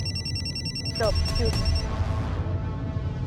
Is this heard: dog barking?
no